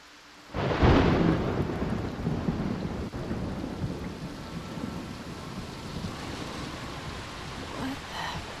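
Video-game thunderstorm: a sudden loud thunder crack opens into a long rumbling roll with steady heavy rain hissing throughout.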